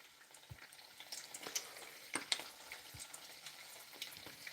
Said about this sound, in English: frying up an egg so I can get it ready to make a fried egg sandwich